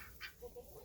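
A couple of short, faint honking calls from geese, somewhat distant, over a low background hum.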